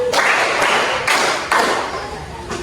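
A classroom of pupils claps in a counted pattern, several sharp bursts of clapping at steady intervals, each a broad crackling hit that fades quickly before the next.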